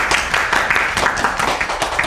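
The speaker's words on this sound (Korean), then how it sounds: "고생해주신 모종민 교수님께 박수 부탁드리겠습니다." An audience applauds a lecturer at the close of a talk on social economy, a dense, even patter of many hands clapping steadily throughout.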